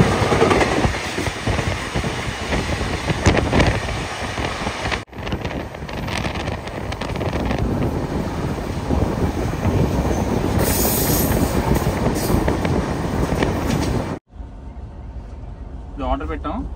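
A moving passenger train on an Indian rail journey, with a steady loud rumble of wheels on track, rhythmic clacking and wind noise. It cuts to quiet near the end, and people talk over it.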